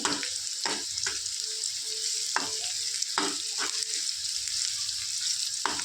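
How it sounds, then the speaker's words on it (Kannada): Onions fry in a pan for egg curry, sizzling steadily in oil over medium flame, with a bright continuous crackle broken by several soft stirring scrapes and knocks; no one speaks. "ಈರುಳ್ಳಿನ ಚೆನ್ನಾಗಿ ಫ್ರೈ ಮಾಡ್ಕೊಳ್ಳೋಣ"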